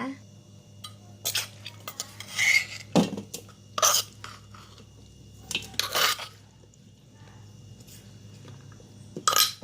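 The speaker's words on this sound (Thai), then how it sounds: "เดี๋ยวเราไปใส่จานกันนะคะ" Som tam papaya salad being moved onto a plate, with intermittent clinks and scrapes of utensils against dishes, wet squishy handling, and brief pauses between sounds, close and fairly clear.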